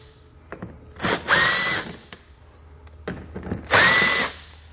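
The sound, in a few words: power drill removing 5.5mm screws from Ford Explorer wheel well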